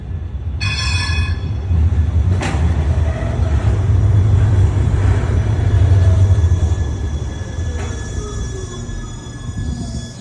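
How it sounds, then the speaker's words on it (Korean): An Education City tram rolls into a stop near Oxygen Park with a deep steady rumble, thin high wheel squeals and a couple of sharp clanks, no voices. "아, 트램이 들어오고 있습니다."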